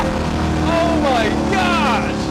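A prototype Shelby Mustang GT350R accelerates at half throttle, its engine droning loudly and steadily with rising whine as revs climb, heard close from inside the car.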